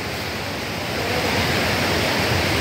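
Water flowing near the Khardu spring source, a steady, loud, broadband rush that continues without break and swells slightly toward the end, with no voices over it.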